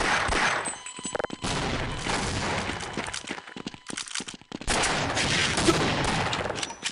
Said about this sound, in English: Can't hit anything with a rocket launcher.